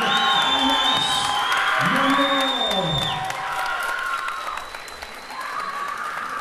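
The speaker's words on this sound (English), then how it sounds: "Huge round of applause to Kevin Octopus Taylor" A fight crowd applauds and cheers the announced winner, Kevin "Octopus" Taylor, after a unanimous decision: steady clapping mixed with shouts and whoops, under a loud amplified voice or music that dominates the first half before the crowd noise thins.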